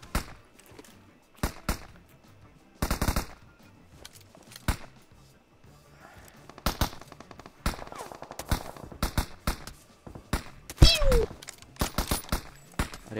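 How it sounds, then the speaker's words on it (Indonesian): Gunfire in the battle game PUBG: repeated sharp shots and short bursts scattered across the clip, some loud and close, others more distant, with a few quieter footstep-like thuds between them. "Ada yang nembak dari kiri."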